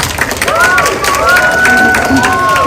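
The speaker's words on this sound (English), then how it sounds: "Thank you for the applause for Philip." Audience applause and cheering at a school assembly as a student is called up, steady clapping with crowd murmur under a speaking voice over a loudspeaker.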